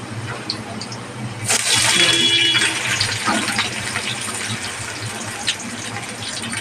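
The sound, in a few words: chopped onions frying in hot mustard oil in a wok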